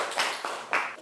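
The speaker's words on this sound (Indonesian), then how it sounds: "Tepuk tangan dulu buat Febri ya." Classroom students clap for a classmate who answered a question, a short burst of a few loose claps in quick uneven succession, fairly close.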